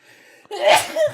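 A single sharp sneeze close by, with a short intake of breath before the loud burst.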